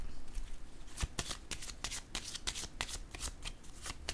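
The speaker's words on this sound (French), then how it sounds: "Je vais déposer une carte sur l'enfant pour voir s'il y a quelque chose d'autre à ajouter." Tarot cards handled at a table during a reading, heard as a quick run of crisp, close riffling flicks and slaps against steady low background hiss, with no talk.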